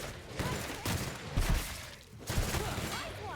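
Weapon fire in The Outer Worlds, a few irregular shots of a science-fiction gun going off at close range, mixed with low game noise and a voice talking over the shots.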